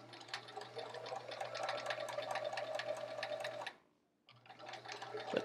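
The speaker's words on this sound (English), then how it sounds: "Let's see if I can sew in a straight line tonight." A sewing machine fitted with a 1/4 inch presser foot stitches a quilt block, giving a fast, even close whir with a low hum underneath, then pausing briefly before starting up again.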